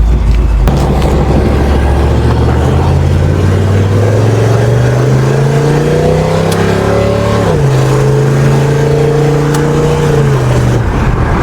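A V8-swapped first-generation Chevrolet S10 truck drives past loud and close, its engine note climbing steadily as it accelerates, then dropping briefly before rising again and fading out.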